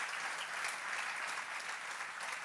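A church congregation applauds in a steady, dense wash of clapping that fills the whole stretch, heard from within the crowd without talk over it.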